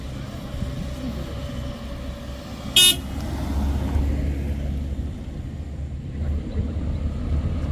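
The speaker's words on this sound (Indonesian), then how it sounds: "arus lalu lintas di jalan tanjakan Batu Jomba ini" Heavy holiday traffic rumbles up the steep Batu Jomba hill road, a steady roar of engines with one short, loud car horn toot partway through and no voices.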